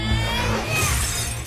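Glass shatters in a cartoon parody of a Dragon Ball Z movie, a broad crash with a bright, high smashing texture that runs for about a second and a half over a low background hum.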